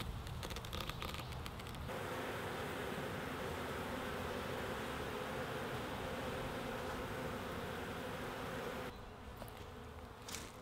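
Honeybees pour out of a Langstroth hive entrance as it is opened after a drive. Their dense, loud, continuous buzzing surrounds the listener close up and eases slightly at the end.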